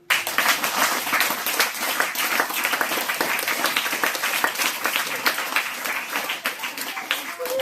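Audience at a spiritual talk claps loudly, a dense and sustained round of applause that starts abruptly and continues steadily to the end.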